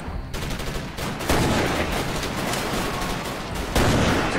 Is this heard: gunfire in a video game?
yes